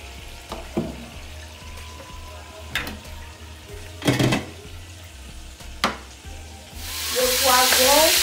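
Oil sizzles and crackles in a saucepan while vegetable rice with chicken is cooked, with a few sharp clatters and stirring knocks, then the frying hiss swells loud and steady near the end.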